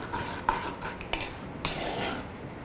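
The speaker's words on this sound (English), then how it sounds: "at this point you have to stir this, continuously stir" Sri Lankan green bean curry being stirred in a pot as it boils on the stove, with a few sharp spoon scrapes and knocks against the pot over a steady bubbling background.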